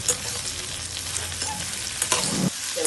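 Sliced okra fries in a pan, a close, even sizzle broken by scraping stirs, with a few louder clinks of the spatula near the end and no voices.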